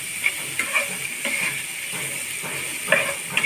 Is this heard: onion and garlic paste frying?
yes